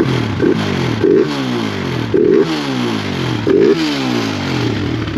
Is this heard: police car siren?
no